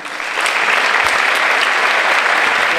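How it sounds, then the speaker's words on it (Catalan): Loud, full applause from an audience at an October 9 awards ceremony in Alcoi, greeting an award winner. It swells in quickly and holds dense and steady without talk. "Rebem-lo amb un fort aplaudiment."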